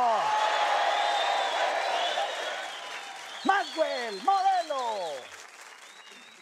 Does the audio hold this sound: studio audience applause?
yes